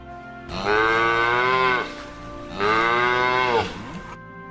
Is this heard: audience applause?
no